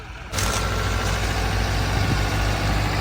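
A tractor engine starts up abruptly and keeps running with a steady, loud, rumbling drone close by while pulling a truck stuck in a field, no voices.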